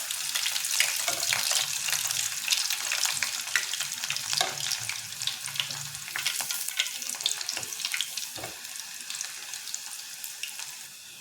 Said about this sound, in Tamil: கருவேப்பிலை எடுத்து இந்த மாதிரி எல்லாத்தையும் பொறித்து போட்டுக்கிட்டேன்